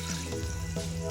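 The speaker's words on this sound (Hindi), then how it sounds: "इसमें मैं आधा गिलास पानी शामिल कर दूँगी।" Half a glass of water is poured into a pan of cooking chicken seasoned with red chili, salt, black pepper and whole coriander seeds, giving a short, soft, continuous splashing pour with no voices.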